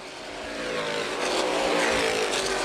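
A pack of CRA street stock cars roars past together on the oval at Winchester Speedway during a race. The engines are loud and dense and build slightly as they approach, with no voices over them.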